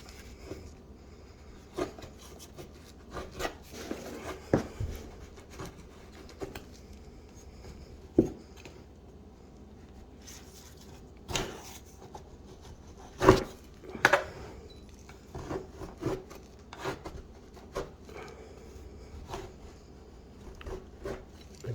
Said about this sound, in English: You just scrape it right up, and it brings all that glue right up with it as you go.